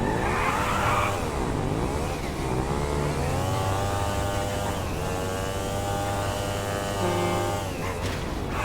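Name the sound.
Batty 801RR motorcycle engine using Akuma sound, video game GTA 5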